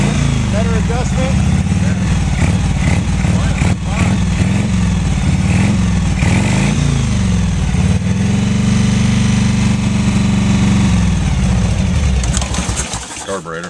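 A small engine running on wood gas, with a carburetor prone to falling off, rumbles loudly and unevenly up close, its pitch rising and falling through the clip while people talk over it.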